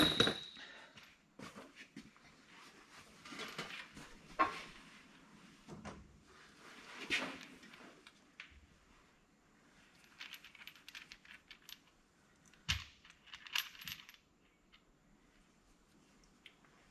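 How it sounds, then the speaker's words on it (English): Metal Detroit Diesel 8V92 Jake brake bridges clink and clatter as they are pulled and dropped into a parts box, a series of sharp scattered knocks and jingles, close but fairly quiet amid a still background. "So we are just going to pull these bridges and"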